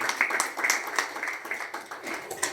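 Scattered clapping from an audience at a company's fourth anniversary celebration, faint and uneven with irregular claps rather than a full ovation.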